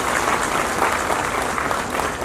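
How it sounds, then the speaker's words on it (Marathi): Loud, steady applause from a large crowd at a Mahalakshmi Saras 2026 closing event, cheering the state-level team, with dense clapping continuing evenly throughout. "आपल्या सर्वांना विनंती आहे की राज्यस्तरावरच्या टीमसाठी एक जोरदार टाळ्या"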